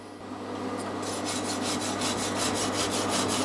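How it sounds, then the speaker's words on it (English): A wire brush scrubs back and forth over a welded aluminium casting repair in a workshop, producing a steady, loud, close rasping scrub with rapid repeated strokes after a brief quieter start. "This wire brush is just used on aluminium"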